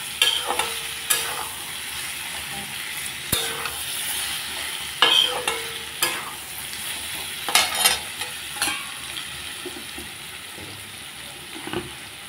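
Tomatoes stirred into a jackfruit curry frying in a pan, with a steady sizzle and repeated scraping stir strokes, some louder than others, at close range.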